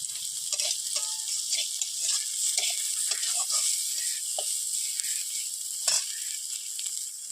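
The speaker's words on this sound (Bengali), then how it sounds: "তেলের মধ্যে পেঁয়াজ আর লঙ্কা কুচি দেওয়া হয়ে গেছে," Chopped onion and green chilli sizzle steadily in hot oil in a pan, a bright continuous hiss with occasional stirring scrapes and pops, close up with no voices.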